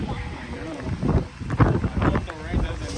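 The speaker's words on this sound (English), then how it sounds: "Oh, it's storming outside." Gusty storm wind buffets the microphone on a rainy day at Oakland Jack London Square train station, surging in uneven bursts while someone talks nearby.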